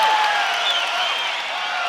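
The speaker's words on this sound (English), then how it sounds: "Crowd totally engaged here" Steady crowd noise from an arena audience at a UFC fight between Israel Adesanya and Anderson Silva, a sustained roar with scattered cheers and whistles, fairly loud and continuous throughout.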